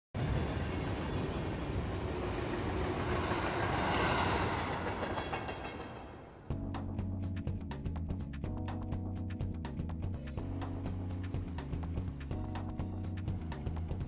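Train station ambience in the Mementos station on the Persona 5 main menu, a loud rumbling train roar for about six seconds before a steady, rhythmic instrumental music track takes over.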